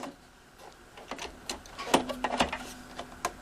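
A sewing machine stitches quilt binding in short, quiet bursts of clicking and whirring, with faint mechanical ticks spaced unevenly between runs.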